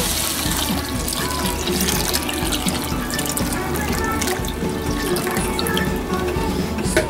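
A continuous splashing pour of chicken broth and milk into a pan, steady and close, lasting the whole stretch without pause.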